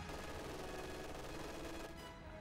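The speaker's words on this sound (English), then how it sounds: "a second MG42 is now firing at the sniper" Sustained, dense machine-gun fire from an MG42 in Company of Heroes 2, a loud unbroken burst that runs almost the whole time and then eases off near the end.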